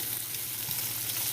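Chopped onions fry in a hot pan before pierogies go in, giving a steady, close sizzling hiss that runs unbroken through the short stretch with no talk.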